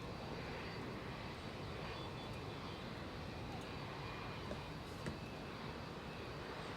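A simulated aircraft on approach to land in the X-Plane flight simulator, a steady, fairly quiet engine drone holding even throughout with no voices.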